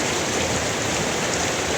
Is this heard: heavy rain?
yes